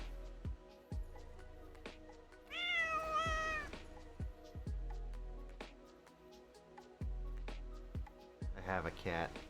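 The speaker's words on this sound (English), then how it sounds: "It is not my cat, but it's a cat." A household cat meows several times, one long rising-and-falling cry in the middle and a quicker run of meows at the end, close and clear amid soft thumps and room noise.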